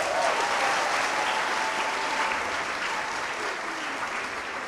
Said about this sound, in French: vous pouvez vous acclamer.